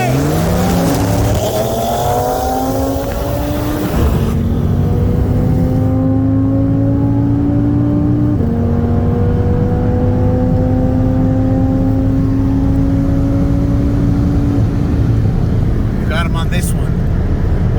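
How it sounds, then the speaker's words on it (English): A 2018 Mercedes C63 S AMG and a 2018 Audi RS3 on modified tunes accelerating hard from a 40 mph roll in second gear: loud, close engine roar climbing steadily in pitch through long pulls, with a gear change partway, and voices over it. "we're gonna do a 40 roll, and we're gonna be in second gear"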